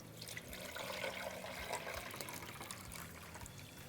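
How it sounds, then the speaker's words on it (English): Water runs into the removable tank of a Gaggia Babila espresso machine during descaling, a steady, soft trickling pour that stays even throughout, fairly quiet and with no talking. "I'm going to put that back in the machine and fill that back up with water again to that max line"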